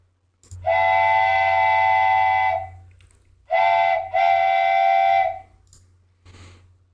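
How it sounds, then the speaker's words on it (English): Wooden train whistle sound effect, a loud, steady chord-like hoot held for about two seconds, then two shorter blasts, heard alone against a low hum. "So I could just download this wooden train whistle"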